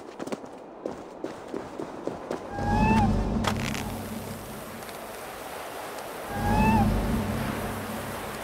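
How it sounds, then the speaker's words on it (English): A cat in Assassin's Creed Valhalla gives two short, rising meows a few seconds apart over game ambience, with footstep-like taps and low rumbling surges beneath. "Who put you up here, little cat?"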